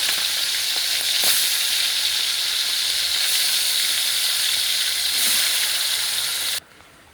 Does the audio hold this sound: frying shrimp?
yes